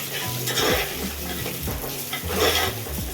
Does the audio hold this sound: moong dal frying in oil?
yes